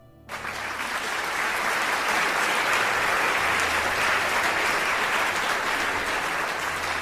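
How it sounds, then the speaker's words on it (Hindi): An audience claps steadily for several seconds after a story read on a Hindi community radio broadcast, a dense, even round of applause from a group. "तालियां बजाने की आवाज भी मुझ तक आ रही है।"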